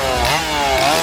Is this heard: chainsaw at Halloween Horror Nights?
yes